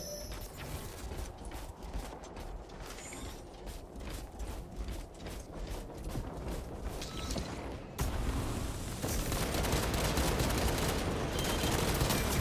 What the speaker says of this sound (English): Commencing reload.